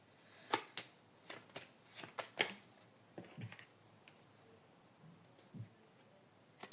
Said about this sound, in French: je fais tomber les cartes.